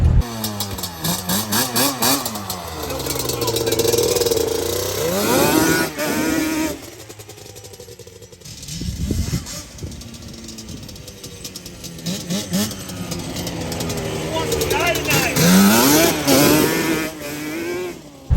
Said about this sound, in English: VW Banshee ripping video coming. Here's a little clip of me ripping it.